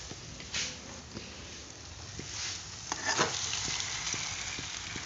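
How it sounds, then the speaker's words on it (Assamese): Macaroni tipped into a hot pan, giving a steady soft sizzle and frying hiss with a few light clinks and taps from the pan, fairly quiet and without talking. "আৰু এতিয়া ইয়াত মই মেক্ৰণিখিনি দি দিম"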